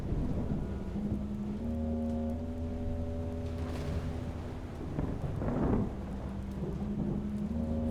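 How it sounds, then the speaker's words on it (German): Thunderstorm with steady rain in the Okomotive video game, a continuous wash of rainfall with low rolling thunder, set under a sustained layered tonal drone, a louder rumble building near the end. "es gewittert immer noch"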